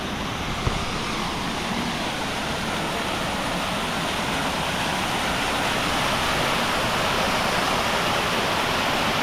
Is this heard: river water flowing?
yes